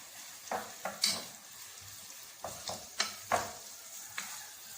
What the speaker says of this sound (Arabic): هنبتدي ننزل باللحمه بتاعتنا اللي احنا مشرحينها بالراحه كده في الزبده، ونديها تقليبه معانا بالشكل ده